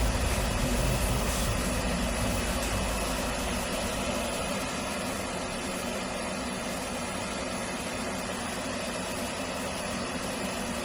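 A simulated aircraft engine running in DCS World, a loud steady droning hum with a constant high whine, unbroken and close throughout.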